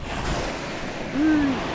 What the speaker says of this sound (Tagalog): Mga alon.